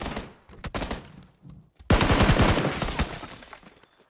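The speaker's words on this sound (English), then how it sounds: "Getting shot at." Rapid gunfire in PUBG aimed at the player: scattered shots early on, then a loud, close, sustained burst of automatic fire that rings out and tails off over several seconds.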